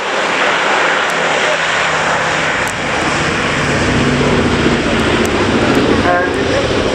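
Boeing B-17G Flying Fortress piston engines drone loudly and steadily as the bomber flies a display at an air show, with a dense, continuous propeller roar that holds throughout.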